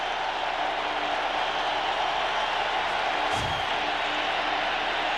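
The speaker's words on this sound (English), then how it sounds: "The crowd has gotten loud here at the Metrodome as the Viking defense eggs them on." Football crowd at the Metrodome during a 2002 Vikings home game against the Lions roars loudly and steadily throughout, with a brief thud partway through over the dense noise.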